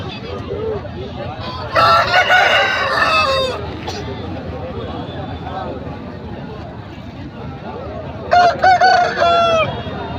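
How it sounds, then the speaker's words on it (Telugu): A rooster at a weekly market in Rayachoti, Kadapa district, crows twice, loud and close, with a shorter call near the end, over steady background chatter and crowd noise. "మంచి స్పీడ్ గల పుంజు"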